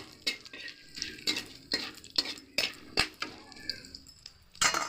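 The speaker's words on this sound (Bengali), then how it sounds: "আর দিয়ে দেবো লবঙ্গ, এলাচ আর দারুচিনি। এবার ভালো করে একটু নেড়ে নেব।" Whole cloves, cardamom and cinnamon are stirred in a hot pan with oil, making a string of about eight crisp spoon scrapes in an uneven rhythm over a faint, quiet sizzle.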